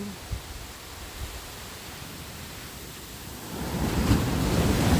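Broadband wash of ocean surf rolling in at a beach in Phuket, Thailand, steady and fairly close, building louder toward the end with no voices.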